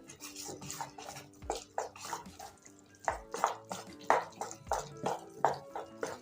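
Rava dhokla batter being mixed in a bowl after a little water is added, a series of wet, rhythmic stirring and scraping strokes, close and moderately loud, with no talking over it.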